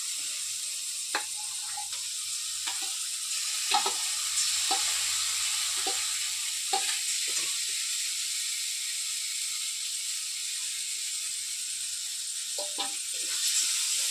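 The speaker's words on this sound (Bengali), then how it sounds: "এবার আমি কষে রাখা পটলের পেস্ট দিয়ে দেবো মশলার সঙ্গে" Pointed gourd paste frying with spices in a pan, a soft steady sizzle under repeated sharp scrapes and taps of a spoon stirring at irregular intervals, close and without talk.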